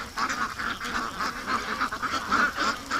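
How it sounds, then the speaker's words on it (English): Ducks quack repeatedly in a close, busy chorus at a lakeside, the calls overlapping in an uneven rhythm with no pauses and no talk. "Come on, ducks, let's go to the lake."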